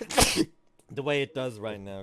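A single sharp sneeze bursts out at the start, loud and close, followed by a person talking.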